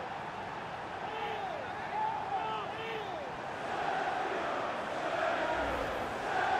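Stadium crowd in the FIFA 19 video game, Manchester City against Bayern Munich, cheering after a City goal. A steady, distant roar with whistles runs throughout and swells slightly toward the end.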